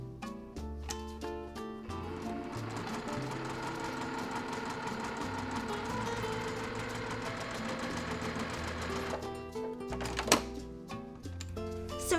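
Sewing machine stitching quilt fabric from the center seam outward, a steady, close mechanical whir with rapid clicking that runs continuously, slowing briefly near the end.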